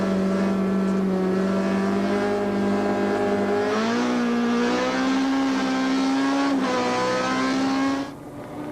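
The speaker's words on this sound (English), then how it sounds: "From the Damso Hodgson Castrol Toyota Corolla, it's plain to see how the wet tar makes the going tricky." Castrol Toyota Corolla rally car racing on a wet tarmac stage, its engine loud and close, droning steadily and climbing in pitch through two upshift-like surges before dropping away near the end.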